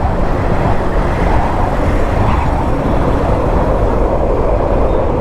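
Riding a new Suzuki Access 125 scooter produces steady, loud broadband road and wind rush with a continuous engine drone throughout.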